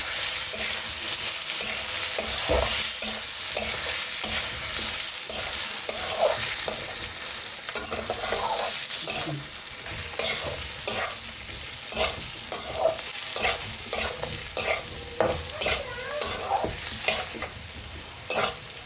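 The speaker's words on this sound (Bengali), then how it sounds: "চালটাকে একটু ভালো করে ভাজবো। যতক্ষণ না একটু একটু আওয়াজ হচ্ছে ততক্ষণ ভাজতে হবে।" Soaked raw rice being fried and stirred in a pan for muri ghonto, a continuous close crackling sizzle with repeated scraping stirs over nearly twenty seconds, no talking.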